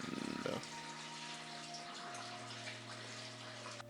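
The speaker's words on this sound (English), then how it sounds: "Measure out 1/3 of a cup of warm tap water" Warm tap water runs into a measuring cup, a steady, close stream whose tone shifts upward as the cup fills, with a brief splashy burst at the start.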